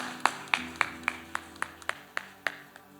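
Church congregation clapping in unison during worship, a steady series of about ten sharp claps at an even rhythm, fairly faint and with no talk over them.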